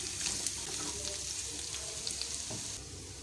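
Small pieces of bottle gourd sizzle with onions in hot oil as they are stirred, a steady close frying hiss with soft scraping from the mixing.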